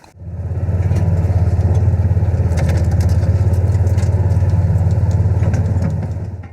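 A car driving steadily, its engine producing a loud, close, continuous low rumble with rough road texture over it, with no talk.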